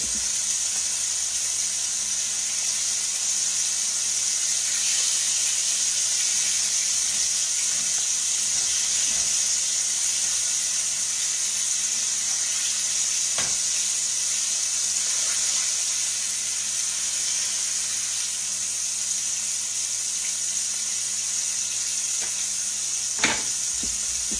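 Round steak fries in a pan for country fried steak with a steady, loud sizzling hiss that holds evenly throughout, broken by a couple of brief pops near the end, with no talking.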